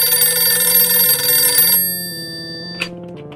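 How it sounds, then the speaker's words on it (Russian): A telephone bell rings loudly and steadily with a bright metallic tone, then cuts off, leaving a short faint tail and a small click. "И опять кто-то звонит."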